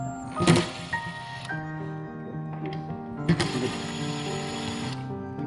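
A Porsche Boxster convertible top mechanism runs close by with an electric motor whine and grinding, ratcheting gear noise, pausing and restarting in two bursts with no talk over it.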